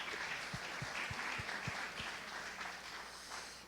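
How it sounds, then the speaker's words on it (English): Audience at a homelessness task force meeting in Yelm applauds the task force, a steady wash of many hands clapping at moderate level, fairly distant in a meeting room, with no talk over it. "So can we please give a round of applause to the task force for their time and effort?"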